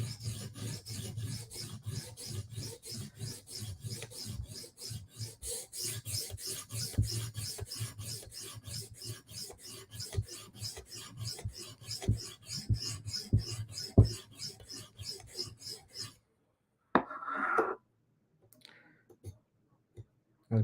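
Knife blade worked on a whetstone to raise a burr, a long run of quick, rhythmic scraping strokes close by, then a sudden stop, a brief clatter and near silence.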